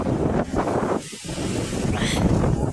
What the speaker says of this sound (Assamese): দেখিলে গম পাইছে কেনেকুৱা বতাহ মিলিছে বতাহ